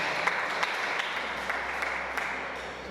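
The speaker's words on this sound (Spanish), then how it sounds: "un aplauso para los papás" Guests applaud the parents at a quinceañera party in Ameyaltepec, a dense, steady wash of clapping that carries on evenly for a few seconds with no speech.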